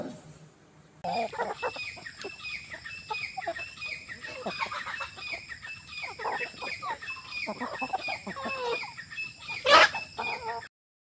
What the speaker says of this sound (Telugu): అవి కౌజుబెట్టలు అరుస్తున్నాయి